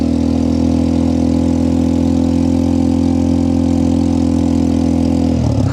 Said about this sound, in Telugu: ఎగ్జాస్ట్ అయితే మార్చారు కాబట్టి కొద్దిగా సౌండ్ అయితే లౌడ్ వస్తూ ఉంది